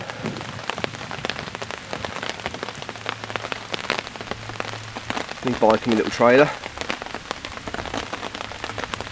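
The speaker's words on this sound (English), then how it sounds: "So as you can hear, rain on tarp." Steady rain patters on a taut tarp overhead, a dense crackle of drops, while someone speaks briefly nearby.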